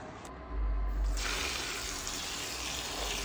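Tap water pouring into a bowl of small dog kibble, a steady close splashing gush starting abruptly and running alone for a few seconds.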